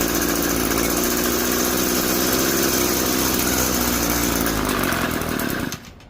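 An Echo SRM-2320T string trimmer with a suspected carburetor problem runs after choking, giving a loud, close, steady two-stroke buzz that drops sharply near the end to a much quieter level.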